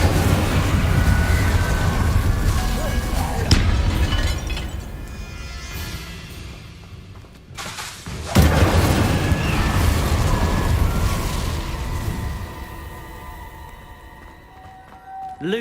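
Fiery spell blasts of Incendio and Confringo in Hogwarts Legacy, loud explosive bursts and crackling booms rolling one after another, with a sharp big blast partway through and sustained rumbling debris between.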